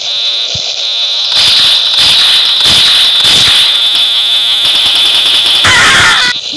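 A mobile shooting video game plays rapid electronic gunfire bursts over a continuous high-pitched alarm-like tone, loud and dense with repeated shot pulses across several seconds.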